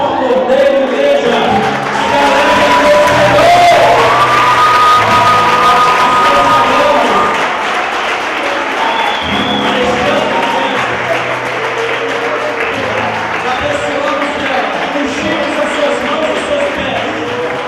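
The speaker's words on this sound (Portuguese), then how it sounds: "Dê uma salva de palmas por Deus, igreja." A church congregation claps and cheers in a long sustained burst of applause, loud and close, with music and voices mixed through it.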